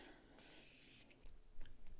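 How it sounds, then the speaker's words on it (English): A steady, hissing spray of makeup setting spray lasting about a second, followed by softer rustling and light handling noises nearby. "Setting spray."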